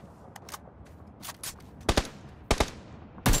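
Gunfire in PUBG: Battlegrounds: a few sharp, isolated shots spaced irregularly, some in quick pairs, fairly close and crisp over a quiet background.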